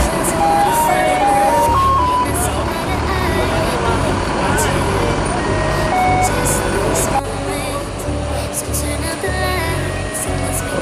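ANS Fortuna intercity bus at Bareh Solok bus terminal, preparing to leave for Jakarta: a steady engine rumble runs under a bright melodic horn or chime tune, with voices and terminal bustle around it.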